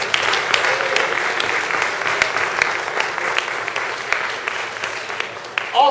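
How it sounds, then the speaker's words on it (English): An audience at an awards event in San Francisco applauds steadily, the clapping of a sizable crowd holding an even, moderately loud level throughout before a voice begins right at the end. "Let's give ourselves a well-rounded applause"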